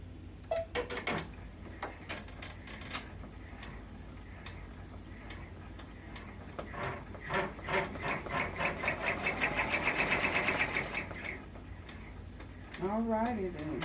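A sewing machine stitches fabric for a book cover, its mechanism clattering in quick bursts that build into a steady, fast run before slowing. A voice speaks briefly near the end.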